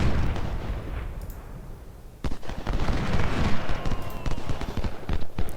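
Civil War artillery and musket fire in the Ultimate General: Civil War battle game at Crampton's Gap, a dense crackle of distant shots with sharper booms breaking through, moderately loud and continuous.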